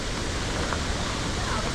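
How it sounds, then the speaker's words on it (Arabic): A waterfall in heavy rain roars as a constant, loud broadband rush of falling water that fills the whole moment, close and unbroken. "تسمعون صوت الشلال او الماي هذا شلون جاي ينزل."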